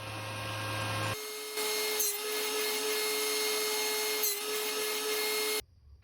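A power saw cuts notches into wood for a wooden box, giving a steady, loud, whining drone that carries on for several seconds with brief changes in load before stopping abruptly.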